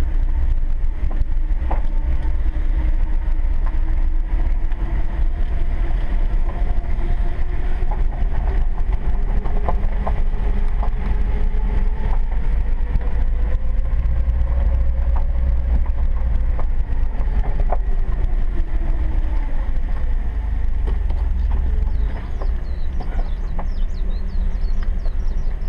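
A four-wheel-drive vehicle crawling in four-wheel low, first gear, on a descending road in Kokee, Kauai, its engine a steady low rumble and drone with shifting tones, heard from inside.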